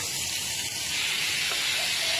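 Three kinds of vegetables hit a small hot pan with tomato, and a broad, steady sizzling hiss swells and stays loud, with no talking over it.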